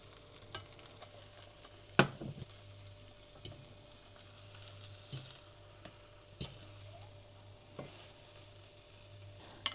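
Chanterelle mushroom and egg omelette frying in a pan, a faint, quiet sizzle broken by occasional sharp clicks and utensil taps, no voices.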